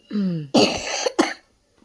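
A few harsh coughs burst out close by during children's day games, preceded by a brief throat-clearing sound, then silence.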